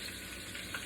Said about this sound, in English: I'm frying it up in nuggets.